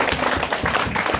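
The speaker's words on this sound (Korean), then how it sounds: "박수 한번 해주세요." Supporters at the opening ceremony of a presidential candidate's campaign office in Ulsan clap briefly, with rhythmic pulses of hand claps close by.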